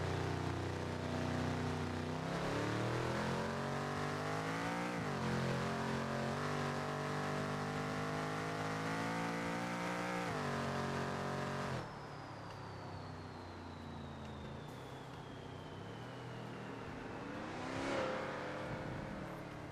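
An F-Body drag car with a 363 engine races in the video game BeamNG, its engine roaring loud and steady as it climbs through the gears, then cutting back to a lower drone and a passing swell.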